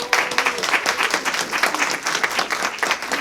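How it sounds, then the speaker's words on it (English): An audience at a R.I.C.O.C.H.E.T. 10th anniversary award ceremony claps steadily, a dense, loud wash of applause that continues throughout. "Can we clap it up just while I'm getting the notes together?"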